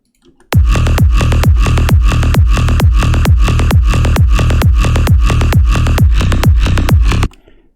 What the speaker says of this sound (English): It's a really huge kick, as you can hear, and that was what I was going for.